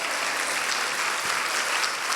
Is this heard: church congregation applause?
yes